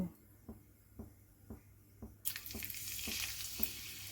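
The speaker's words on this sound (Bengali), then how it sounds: "তেলটা গরম হয়ে গেছে, একটা পেঁয়াজের টুকরো ফেলে দেখব।" A piece of onion hits hot mustard oil in a pan and breaks into a loud, steady sizzle that fills the rest of the moment, after a few soft rhythmic taps.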